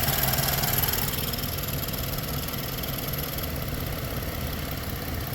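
A car engine idles steadily nearby, a continuous mid-low rumble and vibration that shifts slightly in tone partway through, with no talking over it.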